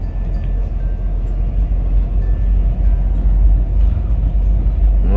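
A manual car accelerates gently in second gear, giving a steady, deep engine rumble with road noise, heard from inside, with no talking.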